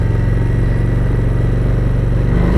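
A Harley-Davidson Street Rod 750 motorcycle under way, a loud, steady low engine rumble with a regular pulsing throb and wind noise, no talking over it.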